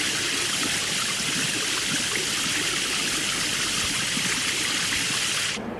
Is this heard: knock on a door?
no